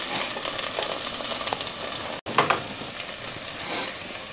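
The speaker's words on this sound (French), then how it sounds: "Nous sommes en train de faire sauter des oignons et de l'ail avec quelle huile?" Onions and garlic sauté in avocado oil in a pan for a carrot and chickpea soup, with a steady close sizzle and crackle, stirring scrapes and a brief dropout midway.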